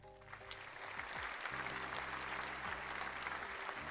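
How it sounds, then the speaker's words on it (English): A playback effect of a crowd applauding, heard during a Mother's Day live stream, as a steady dense patter of clapping that holds for several seconds under a low background hum. "I think you can hear the applause."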